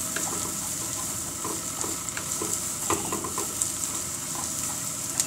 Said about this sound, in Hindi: मैं अनियन को फ्राई कर रही हूँ